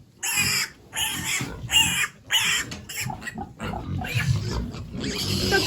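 Piglets grunting and squealing in a busy burst of overlapping calls, with a few brief gaps, close by and fairly loud.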